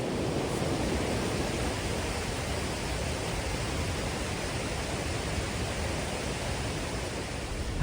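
A large mass of rushing water in the Verzasca Valley in Ticino, Switzerland, a steady, dense roar that stays loud and unbroken throughout, with no other sounds on top.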